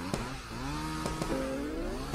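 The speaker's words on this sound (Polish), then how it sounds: "Czemu słyszę kosiarkę?" A small two-stroke lawn mower or string trimmer drones steadily in the background, its pitch wavering and rising in slow sweeps, with a few sharp clicks over the top.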